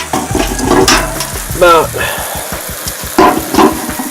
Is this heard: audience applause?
no